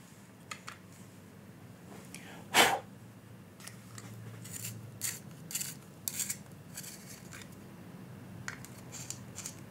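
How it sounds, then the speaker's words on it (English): Pencil being sharpened while sketching fantasy characters, a few short scraping and shaving strokes at close range with one louder rasp near the start, no talk. "And let's sharpen that pencil."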